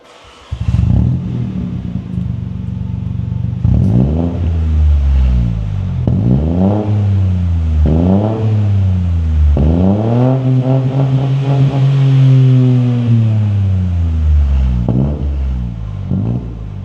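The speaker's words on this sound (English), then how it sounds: "And now moving on to the GPF back system, which will be a touch grumblier due to the extra pipe work." A BMW 118i M-Sport with a GPF-back performance exhaust, loud and close while stationary, revs repeatedly in about six rising and falling blips, with a deep grumbling idle running between them.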